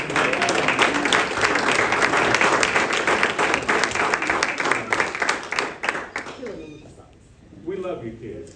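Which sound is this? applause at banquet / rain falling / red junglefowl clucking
applause at banquet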